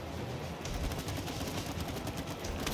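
Rapid gunfire in the video game It Takes Two, a dense, continuous burst of shots at moderate loudness with no pauses.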